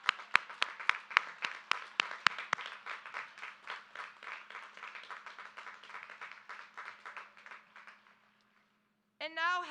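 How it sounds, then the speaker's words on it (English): At the Bothell High School Class of 2021 graduation ceremony, a few sharp, distinct claps quickly build into a steady round of applause from the audience, which tapers off and fades to near silence before a voice begins speaking. "Please join me in showing our gratitude by giving our staff a round of applause."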